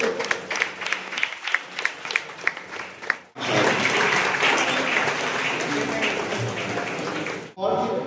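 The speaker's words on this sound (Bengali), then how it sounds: "সকলে একটা জোরে হাততালি দেবো" Loud, sustained audience applause fills a school reunion hall in honour of a teacher, starting after a stretch of scattered claps and speech and running for several seconds before cutting off.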